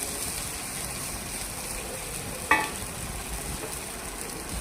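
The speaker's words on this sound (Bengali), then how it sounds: "চিংড়ি মাছটা ভাজা হয়ে গেছে, একটু আদাও দিয়ে দিয়েছি" Prawns fry with ginger in a pan, a soft continuous sizzle heard close up, with one brief clink of a utensil partway through.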